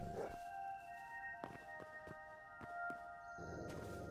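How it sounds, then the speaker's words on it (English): Wolves howling in the game Hytale, sustained tonal howls held over a quiet background, punctuated by several sharp clicks or thuds and a softer rustle near the end. "Dude, what is with the wolves?"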